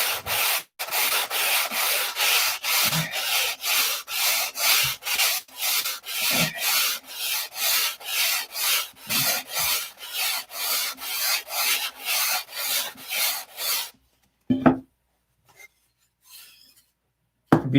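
An 80 grit sanding bar rubs across wood while working on a new hand plane, with steady rhythmic back-and-forth strokes, loud and close for about fourteen seconds, then a few scattered handling knocks.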